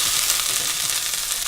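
Blackened shrimp fry in a hot pan for a tostada, a loud, dense, continuous sizzle close up with no talking.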